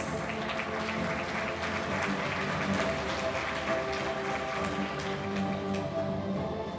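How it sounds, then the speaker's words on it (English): An audience applauding graduates at a graduation ceremony, with steady sustained clapping from a large crowd, even and continuous throughout. "Let us all give them a round of applause."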